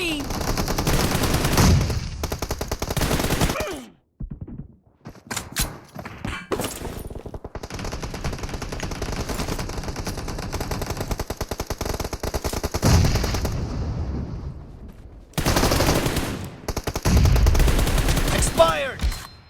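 Rapid bursts of M416 Glacier rifle fire in the mobile shooter PUBG Mobile, loud and close, with dense automatic volleys separated by short pauses and brief quieter gaps.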